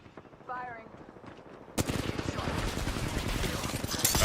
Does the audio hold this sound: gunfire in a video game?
yes